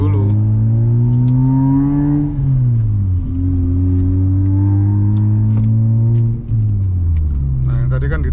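A Mazda RX-8 rotary engine idles with a loud, buzzy drone and is blipped up and down several times, the pitch rising and falling in smooth sweeps, close to the microphone with a few faint clicks at the end.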